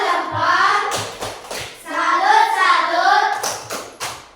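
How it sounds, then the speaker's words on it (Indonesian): Children in a classroom clap in short bursts mixed with sung or chanted voices, the claps landing in small rhythmic groups between the voices. "Beri tepuk untuk Prilly"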